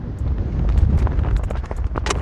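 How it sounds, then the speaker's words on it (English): Strong, gusty wind buffets the microphone on a golf course, a steady low roar with rushing bursts through the whole stretch and no talking. "It's crazy windy out here."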